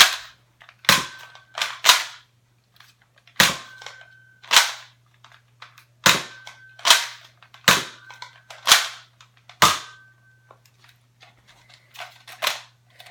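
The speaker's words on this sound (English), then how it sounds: "you can shoot with 4 AccuStrike darts, but I have elite darts" A Nerf AccuStrike blaster fires Elite foam darts about a dozen times, each shot a sharp, close pop with a spring snap, spaced at uneven intervals of roughly one second against a faint steady hum.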